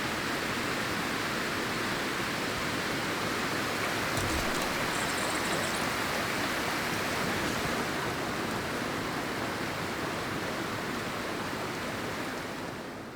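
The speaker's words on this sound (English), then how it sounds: "I was afraid the waterfall would, you know, still be just as loud" Loud waterfall in the game Cairn, a dense roaring wash of falling water that stays steady and enveloping throughout, easing slightly at the very end.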